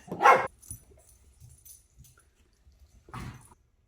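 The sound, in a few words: dogs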